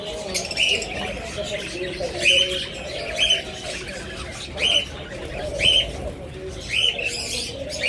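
Many budgerigars chirp and twitter in quick bursts close by in an aviary, with a low background murmur and occasional voices.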